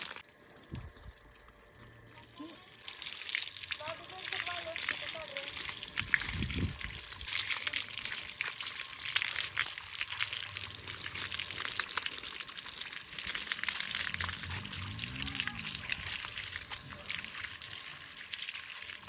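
Water pours and splashes steadily outdoors as cows are washed for the Bail Pola festival, a continuous wet hiss that swells and fades over the whole stretch, with faint voices and scattered knocks in the background.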